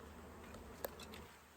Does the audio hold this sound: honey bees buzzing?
yes